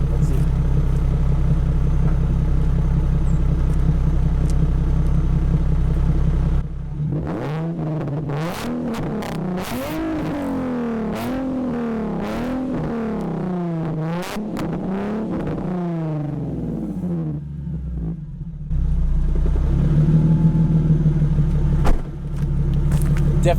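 A stock drift car engine idles with a loud low drone, then revs repeatedly in rising and falling sweeps, and finally drops back to a rough idle with a brief blip near the end.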